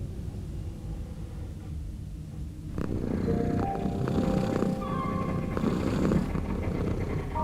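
A cat purrs close by in a low, rough, continuous rumble, which grows fuller partway through while faint tonal background sounds drift in and out.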